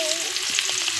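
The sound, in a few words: prawns frying in hot oil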